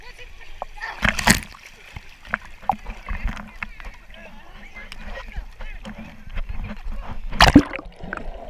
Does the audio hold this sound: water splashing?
yes